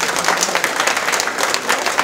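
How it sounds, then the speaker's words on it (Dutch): A seated audience gives a final round of applause for a winner at a literary late-night show, dense steady clapping filling the room throughout with no voices. "Nog één keer een applaus voor de winnaar."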